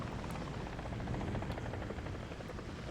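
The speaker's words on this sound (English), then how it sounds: "Helicopter." Helicopter rotor and turbine in the War Thunder combat game, a steady broadband thrumming drone held throughout at moderate, distant-sounding level with no talk.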